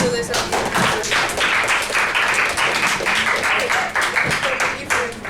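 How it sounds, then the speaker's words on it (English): Audience at a high school Turning Point club meeting clapping together for several seconds, a steady dense patter of hands in a room with a voice or two mixed in. "Let's clap it up for that."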